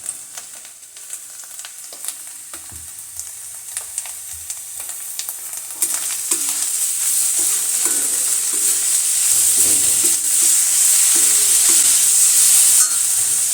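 Gajar halwa, a carrot pudding sweetened with organic khand, is stirred in a pan. Soft scraping stir strokes come first, then a bright, steady sizzle builds and holds, with a spoon clinking and scraping against the pan throughout.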